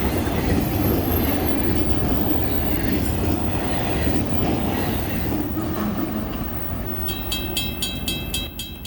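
An 8,000-foot freight train with two GEVO locomotives rolls past a crossing in a loud, continuous rumble of wheels and rail noise. Near the end, a rapid train of high clattering clicks enters.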